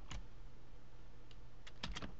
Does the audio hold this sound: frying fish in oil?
no